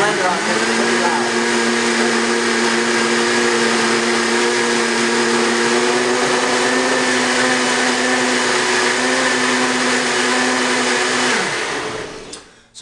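A loud blender whirs through a green smoothie, a sustained high-pitched motor roar with steady harmonic tones that cuts off abruptly near the end.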